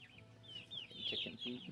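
Chickens at a farm give soft, faint clucks and chirps close by over a low background hum.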